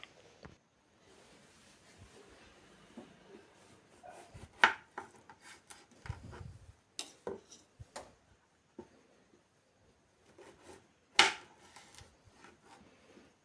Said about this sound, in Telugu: నిమ్మకాయలు కట్